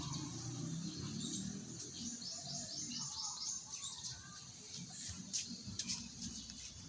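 A bird in an outdoor park chirps and tweets in short, faint bursts against a steady background hum.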